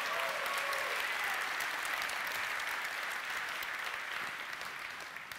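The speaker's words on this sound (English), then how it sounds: "you got to clap at the old stuff too" A large indoor audience claps in a steady, dense roar of applause that holds for several seconds and fades slightly toward the end.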